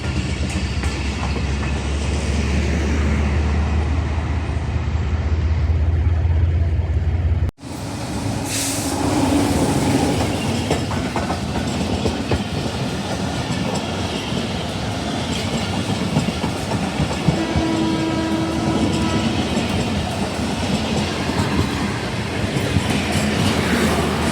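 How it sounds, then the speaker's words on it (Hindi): The Allama Iqbal Express passenger train rushes past at speed, a loud, continuous roar of coaches with rhythmic wheel clatter and occasional faint squeals, heard close and sustained throughout without talking. "9 up Allama Iqbal express Lahore to Sialkot, Karachi to Lahore, Lahore to Sialkot."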